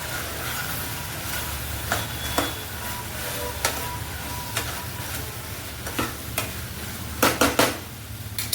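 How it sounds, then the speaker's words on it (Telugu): A field bean curry with coriander powder is stirred in a pan. Scraping spoon strokes sound over a steady sizzle, and clusters of sharper clacks come toward the end. "అలాగే కొంచెం ధనియాల పొడి వేసుకొని కలిపేసుకున్నాం."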